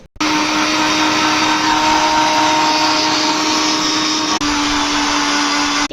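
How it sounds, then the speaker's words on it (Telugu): A mixer grinder whirs loudly and steadily as it blends a flavoured drink with ice, a continuous close motor roar with a brief dip near the end, no voices. "Grind it. 1 మీద పెట్టి 60 కౌంట్ చేసుకోవాలి గైస్."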